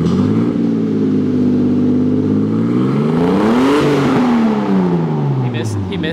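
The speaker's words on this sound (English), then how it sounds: "I heard a little like pop towards the top of the RPM range" A car engine revs hard toward the top of its RPM range, rising to a peak and falling again with a loud, sustained roar, and a faint pop near the end.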